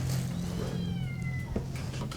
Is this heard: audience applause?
no